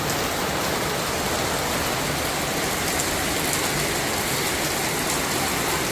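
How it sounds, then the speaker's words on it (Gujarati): Heavy monsoon rain in Surat, India pours down in a loud, steady hiss that stays constant throughout, with no breaks or voices. "વરસાદ આવી રહ્યો છે જોરદાર."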